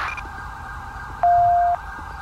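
Police siren in the LSPDFR mod for a driving video game on an LASD Chevrolet Caprice patrol car, a steady electronic wail with a brief sharp piercing yelp burst in the middle, no voices.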